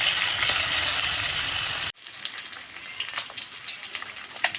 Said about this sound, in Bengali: মাছটাকে উল্টে অপর দিকটাও ওই একইভাবে ভেজে নেব